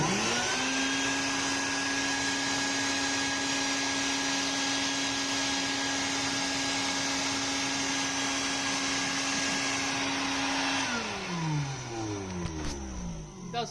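A bee vacuum fitted with a bucket head attachment runs loud and steady with a constant whining hum, then winds down near the end as the motor slows.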